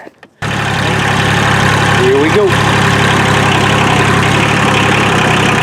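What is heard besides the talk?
tractor engine starting and idling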